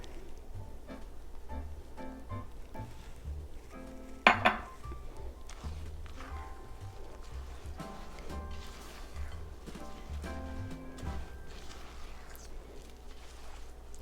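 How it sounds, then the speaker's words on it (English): A spoon mixes almond bar batter with melted butter in a bowl, soft continuous scraping and stirring with one sharp clink of utensil against the bowl early on, faint and close, with no talking. "the next thing we're going to do is mix in the melted butter"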